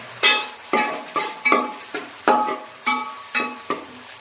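Onions sauté in a pan as a spoon stirs them in regular strokes, about ten sharp scraping swishes with a soft sizzle between them. The sound is close and unaccompanied by speech.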